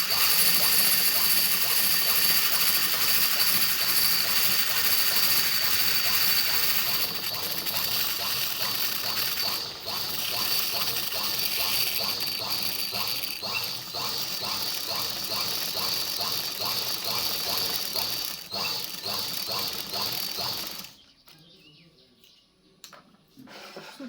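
A sewing machine stitching a printed blouse runs in a fast rhythmic mechanical clatter for about twenty seconds, slowing slightly in places, then stops and leaves near silence.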